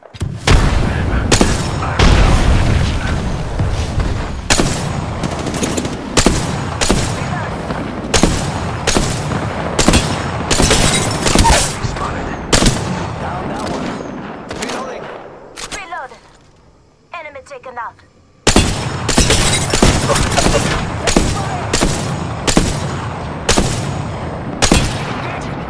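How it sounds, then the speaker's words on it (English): Rapid bursts of gunfire crack through an Apex Legends firefight, sharp repeated shots close by with a brief lull before another volley resumes, a player talking over the action. "Getting shot at."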